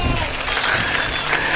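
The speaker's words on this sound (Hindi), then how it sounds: "एक बार जोरदार तालियां बजाकर मुझे आशीष दीजिए" An audience at a poetry recital gives a burst of clapping, a dense, continuous patter of many hands close by for the whole moment.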